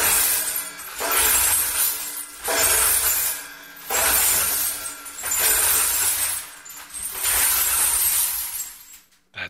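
A hand-cranked sound effect instrument tumbles loose glass to imitate a bottle breaking, giving loud rushing bursts of shattering and clinking in four long waves with brief pauses between them, heard alone.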